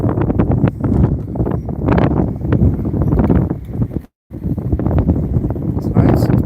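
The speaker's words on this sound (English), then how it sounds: "It's pretty windy today." Strong wind buffets the microphone in a backyard garden in continuous rough gusts, broken by one brief silent cut partway through.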